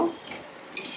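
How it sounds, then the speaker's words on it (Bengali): Aloo paratha fries quietly in a pan, giving a faint, low sizzle broken by a couple of brief utensil scrapes and clinks. "এরকম করে আমি এক এক করে ভেজে নেব"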